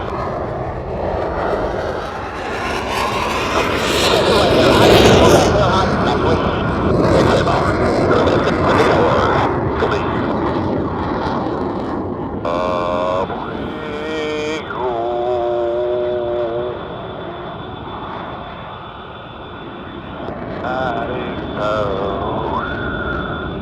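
U.S. Navy Blue Angels jets roar past at an air show during a barrel roll, a loud broad jet rush swelling and fading, followed by rising and falling whining engine tones from the formation.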